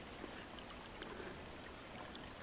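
Water flowing under snow in a winter stream: a steady, faint broadband rush and trickle, continuous and even, with no voices.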